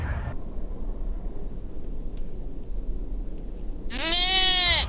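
A sheep bleats once near the end, a loud, close, wavering cry that follows a few seconds of quiet outdoor background noise.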